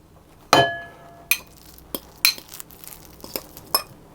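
A utensil clinks against a bowl while apricot jam is stirred into plum filling: a sharp first knock, then about six lighter, irregular taps and scrapes, close by, with no talk.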